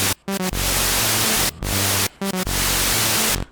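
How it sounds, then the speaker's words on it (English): White noise from the patchbay of a Behringer K-2 synthesizer, a clone of the Korg MS-20, hisses in loud bursts broken by short gaps, with brief tonal blips between them. "we can actually take this white noise"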